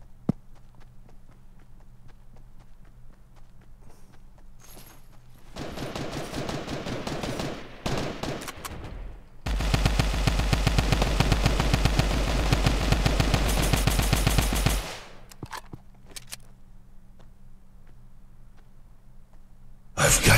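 Gunfire from a sniper battle in the video game Fortnite, loud bursts of rapid shots filling several seconds in the middle over a quiet background, with sporadic single cracks before and after.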